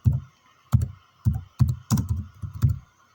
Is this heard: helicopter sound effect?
no